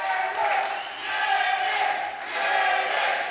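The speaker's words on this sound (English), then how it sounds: "The crowd is going wild here, ladies and gentlemen." A wrestling crowd at a Rocky Mountain Pro event roars and shouts in sustained waves of loud, dense noise that swells and dips throughout, with no clear voice standing out.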